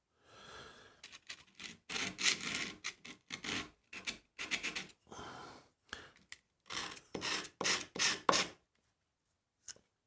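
A filed Allen key is rubbed on worn sandpaper to remove the burr, a series of short, close rasping strokes in uneven bursts with brief pauses between, ending in quiet.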